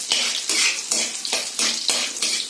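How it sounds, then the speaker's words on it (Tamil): Cauliflower florets fry in a pan while being stirred, sharp scraping strokes of a utensil against the pan repeating about every half second over a steady sizzle, close and fairly loud, no talking. "இதை நல்லா ஃப்ரை பண்ணுறேன் ஒரு 2லேருந்து 3 நிமிஷம்."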